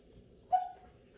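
A dog whimpers after a walk, giving a single short, high whine that trails off over quiet room background.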